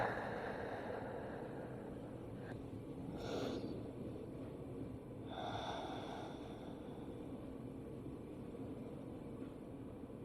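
Slow deep belly breaths during a beginner hatha yoga session, two soft airy swells of breathing a few seconds apart over a steady background hum, faint and unhurried.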